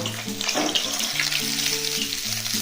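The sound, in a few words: frying bhola fish in oil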